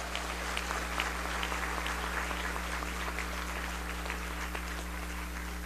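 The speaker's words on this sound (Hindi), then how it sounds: "स्वामी योग ऋषि रामदेव जी महाराज का जोरदार तालियों से स्वागत।" A large audience at an event in New Jersey claps continuously to welcome Swami Ramdev, a dense sustained applause filling the room at even loudness over a low steady hum.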